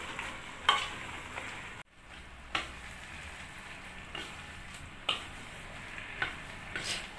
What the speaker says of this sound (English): Now we'll add our vegetable. we give this a good mix.